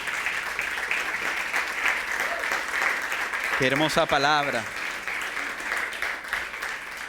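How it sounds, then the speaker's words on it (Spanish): A church congregation applauds in steady, sustained clapping throughout, with a voice speaking over it and a brief burst of singing or exclaiming in the middle. "¿Será que le podemos dar un aplauso fuerte al Señor?"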